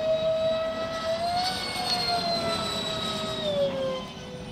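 A Freewing Su-35 RC jet with twin 70mm electric ducted fans, vectored thrust, flies at half throttle, giving a steady high-pitched whine that bends slightly in pitch as it passes, loud and continuous with no talk.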